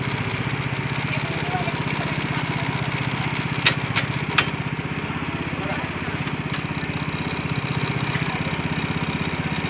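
A Mahindra Paddy Walker 6-row rice transplanter's small engine idles close by in a steady, even chug that runs the whole time, with a few sharp clicks near the middle.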